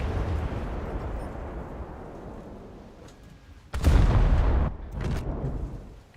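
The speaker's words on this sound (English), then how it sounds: "I still have the shell cannon enabled on this, don't I?" A shell cannon fires in a naval video game: a heavy boom bursts out of a low, rumbling ambient din, and a second, softer blast comes soon after, with no speech.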